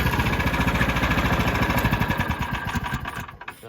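A swapped small engine on a John Deere AMT 600 utility vehicle runs after a pull start, a steady rapid loud putter close by that cuts out near the end.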